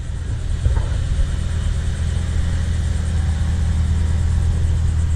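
Many cars sit idling in a long line at Daytona International Speedway, a steady low engine rumble that holds throughout with no one speaking.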